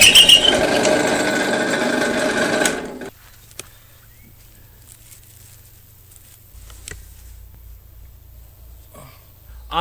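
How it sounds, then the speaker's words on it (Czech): Power drill boring out a stuck screw on a pressure vessel, a loud steady whine for about three seconds that stops abruptly, leaving near silence with faint scattered clicks. "Tak ho ještě vyvrtáme."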